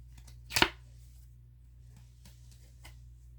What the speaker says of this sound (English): that didn't shuffle real good